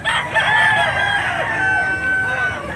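A large gamecock stag crows once, a long drawn-out call filling the clip, nearby and loud, with faint background noise.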